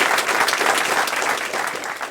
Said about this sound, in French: Donc, je vous demande de l'applaudir. Charles Overy.